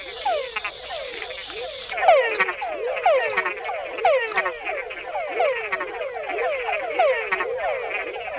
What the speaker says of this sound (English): male frogs have to think twice about sounding off